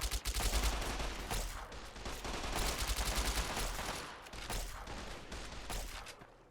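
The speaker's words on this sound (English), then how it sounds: "Look at that laser gun." Dense gunfire in a Fallout mod battle video game with laser guns firing, rapid overlapping shots and bursts, loud and continuous with no clear pauses, no voices.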